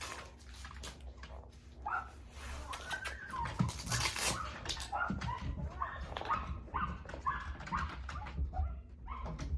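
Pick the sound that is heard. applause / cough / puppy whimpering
puppy whimpering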